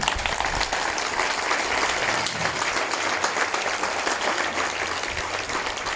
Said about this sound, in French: Un applaudissement à nos anges du ciel.